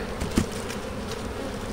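A swarm of honey bees buzzes in a steady, dense drone that fills the whole stretch, with a slight swell near the start, around black locust and blackberry blossom during a strong nectar flow.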